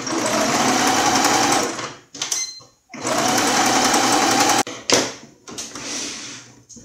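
A sewing machine topstitches the seams on both sides of a baby toiletry bag with a wipes pocket, running in two long loud steady bursts with short pauses and brief handling noises between them.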